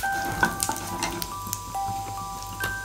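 Mustard seeds, cumin, coriander, chili, asafoetida and curry leaves are tempered in hot oil, making a faint, soft sizzle with a few light crackles and clinks close by.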